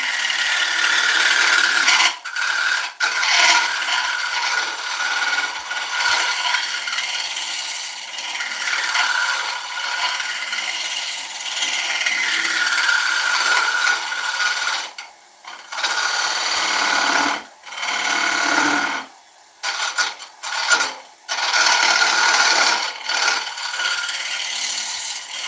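Spalted beech turns on a wood lathe as the tool rubs and scrapes in long, steady, close-up passes, broken by a few short pauses where the cutting stops.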